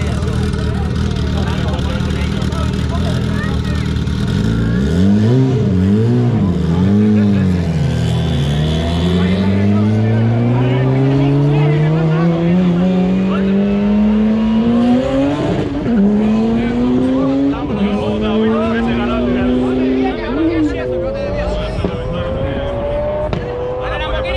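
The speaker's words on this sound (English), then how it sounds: "That MR2 is going up against the twin turbo Lambo." Toyota MR2 and a twin-turbo Lamborghini roll racing in an elimination round, engines roaring loud and close, revs climbing in long rising sweeps with gear-change breaks, tires chirping, people talking throughout.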